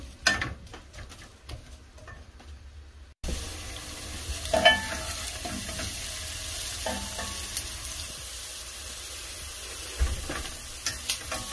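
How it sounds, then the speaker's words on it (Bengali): Chopped onion sizzles in hot oil in a home kitchen, with a quieter first three seconds and then a sudden louder, steady frying hiss, punctuated by intermittent stirring scrapes and clatters. "তেলটা হালকা গরম হয়ে গেছে, আমি যে কেটে রাখা পেঁয়াজটা দিয়ে দিচ্ছি। পেঁয়াজটাকে আমি ভালোভাবে ভেজে নিব।"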